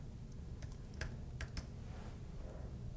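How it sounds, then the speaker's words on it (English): Typing on a computer keyboard with sparse, distinct key clicks over a steady low background hum, close and fairly quiet, with no voices. "type in requested."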